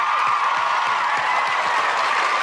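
A small group claps steadily for a couple of seconds, a close, even patter of hands without cheering or talk.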